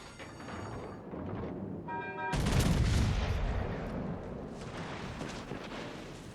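Main guns of the battleship Missouri firing in World of Warships: a sudden loud broadband blast about two seconds in, followed by a long rumbling roll that fades slowly under ambient game sound.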